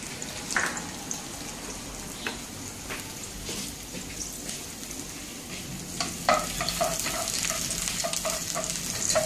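Chopped garlic fries in a little oil in a pan, giving a soft continuous sizzle with occasional crackles and stirring scrapes, fairly quiet and close with no talking.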